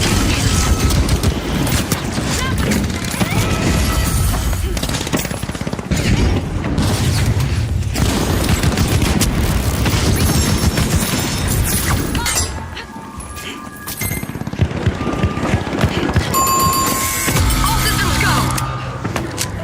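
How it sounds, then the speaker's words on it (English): A frag grenade is thrown and goes off during a loud, chaotic match in The Finals, with heavy explosions, crashes and mechanical clatter that run almost without a break alongside an announcer's voice. "Tossing a frag."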